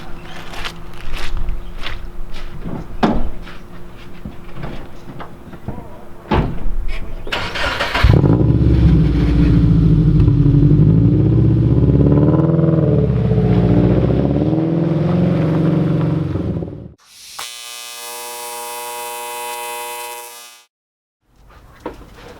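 A Subaru EJ20 engine fitted with a new full exhaust in a Brumby starts after a few clunks and footsteps. It runs with a loud, steady, deep rumble for about nine seconds, then cuts off, and a brief tonal electronic sound follows.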